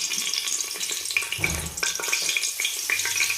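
Bay leaves dropped into hot oil in a pan while cooking chicken biryani, crackling and sizzling steadily with small sharp pops and a brief clatter, close and clear with no talking.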